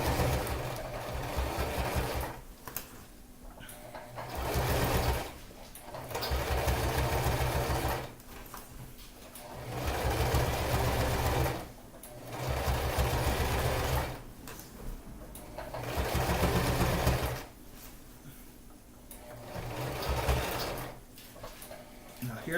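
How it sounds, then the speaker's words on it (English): A sewing machine stitches a thin lining layer onto a thick fabric layer in several bursts of rapid, humming mechanical chatter a few seconds long, separated by brief pauses, close and steady. "you're sewing a very thin layer over a very thick layer"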